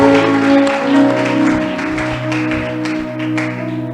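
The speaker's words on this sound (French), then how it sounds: "On acclame pour le Seigneur." A church congregation at a Sunday service claps in praise, a steady mass of applause under sustained organ or keyboard chords, loud and close throughout.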